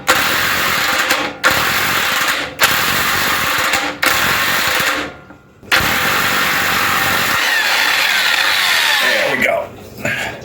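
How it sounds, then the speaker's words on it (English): An impact wrench removing the anode rod from a water heater tank, loud close bursts of rapid hammering whir in several one-to-two-second runs separated by short pauses, then a longer final run. "Put the impact wrench in the socket on there."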